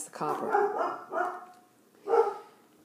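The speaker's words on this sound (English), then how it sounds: "that's just my dog" A pet dog barks a few times nearby, short yapping bursts heard alongside someone speaking indoors.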